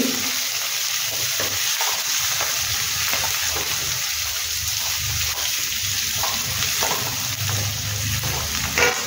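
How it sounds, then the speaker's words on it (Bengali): Onion frying in a pan for South Indian upma, a steady close sizzle with occasional stirring scrapes and clinks, continuous and fairly loud, with no voices. "পেঁয়াজটা একটু ভেজে"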